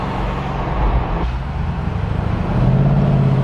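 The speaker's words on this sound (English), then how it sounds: "Those upshifts are outrageous." A BMW 8 Series with over 500 horsepower accelerates hard, its engine note rising, dropping briefly at an upshift, then climbing again, loud and steady from inside the car.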